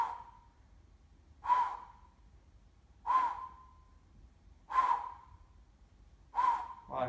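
Four sharp, airy exhalations from a person doing abdominal crunches, each spaced about 1.6 seconds apart and ending in a faint whistle, close and clear over a quiet background.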